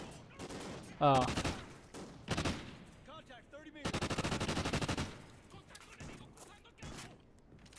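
Gunfire from a weapon in Call of Duty: Ghosts, a few separate shots early on, then a long rapid automatic burst in the middle, with a man's brief exclamation heard over it.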